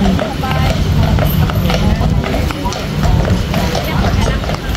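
Horse hooves clip-clop steadily on pavement in Stanley Park, Vancouver, mixed into a busy outdoor bustle with people talking nearby.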